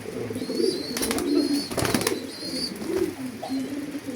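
Soft, low coos from a racing pigeon repeat in a steady rhythm amid background noise, with a few faint higher chirps and brief rustles mixed in.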